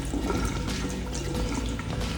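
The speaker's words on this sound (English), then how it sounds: "the screen is responding to the stream of water" A stream of water splashes onto an Honor X9c smartphone, a close, irregular watery trickle and spatter running steadily without any speech.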